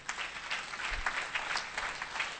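A crowd claps steadily throughout during a church prayer service, a dense patter of many hands at moderate distance with no voices.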